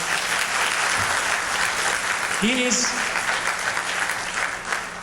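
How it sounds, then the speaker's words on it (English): Steady applause from an audience at a 2009 PCA tribute event honoring Rajnikant Bhalodia, filling the full stretch with dense clapping while a voice speaks briefly over it. "let's give him a big round of applause"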